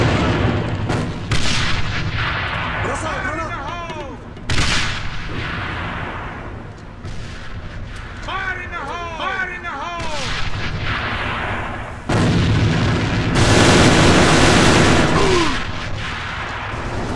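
Gunfire and grenade blasts in the shooter game Alliance of Valiant Arms during a competitive match: loud repeated shots and heavy booms, with sharp impacts and a roaring, dense mix throughout, plus faint voices underneath.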